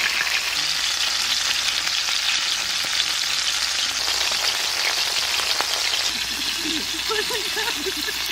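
Hilsa fish wrapped in gourd leaves fries in a pan with a steady, dense sizzle that holds throughout, and faint voices surface briefly near the end.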